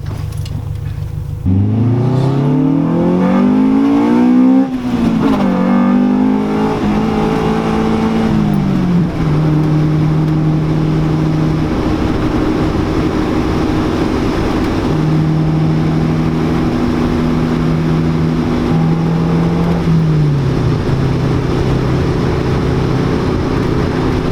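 Honda CRX Del Sol with a B16 engine revving hard, pitch climbing and falling in repeated sweeps, then holding steady high-rpm drones, loud and close with no talking.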